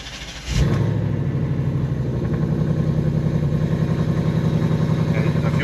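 A Coyote-swapped 2006 Ford Mustang engine cranks and catches, settling into a steady, loud, close idle with a pulsing low rumble that holds for several seconds without talk.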